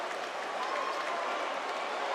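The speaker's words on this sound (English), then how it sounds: "He has brought the crowd alive." A basketball crowd roars and cheers steadily through an FIBA U19 Round of 16 game between Switzerland and France, a broad arena din heard with no clear speech on top.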